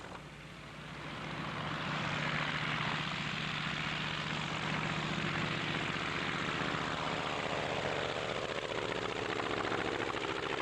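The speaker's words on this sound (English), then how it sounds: "It headed for the fairway in what appeared to be a good takeoff." A small propeller plane carrying about 10 gallons of gas taking off from a golf fairway, its engine drone swelling within the first two seconds and then holding as a steady, loud, broadband roar.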